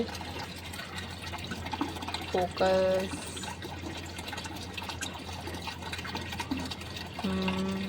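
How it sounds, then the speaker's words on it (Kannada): Water splashes and trickles into a household air cooler in uneven bursts, close by, with people talking over it. "ಈಗ ಕೂಲರ್ದಾಗ ಈಗ ನೀರು ಹಾಕ್ಲತ್ತೀನಿ ರೀ ಫ್ರೆಂಡ್ಸ"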